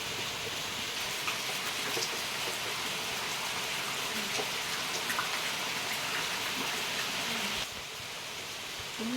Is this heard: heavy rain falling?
yes